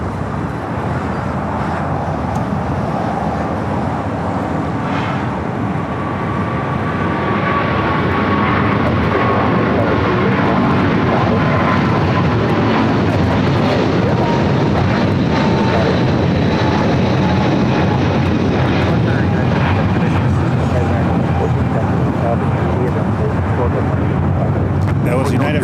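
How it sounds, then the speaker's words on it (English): A Boeing 777 airliner at LAX produces a broad, swelling jet roar that builds and holds loud, with traffic noise in the background and someone talking over it. "Flight 787 flying on a Boeing 777 going back to Houston."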